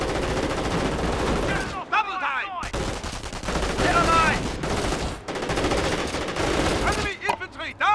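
Dense rapid gunfire and bursts of machine-gun fire rattle through a Company of Heroes battle around a building, nearly continuous with brief gaps, while a voice talks over the combat.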